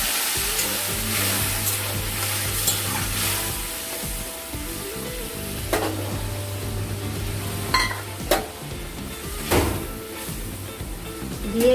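Water poured into a pan of frying cumin and spices, a hiss swelling over the steady sizzle, with brief clinks of a utensil against the pan in between.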